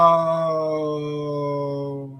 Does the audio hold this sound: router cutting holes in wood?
no